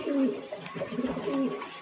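A Kolkata bloodline pigeon held in the hand gives a soft, low cooing, a couple of brief rolling coos close up.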